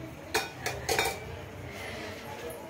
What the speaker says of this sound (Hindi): पहले बर्तन रख के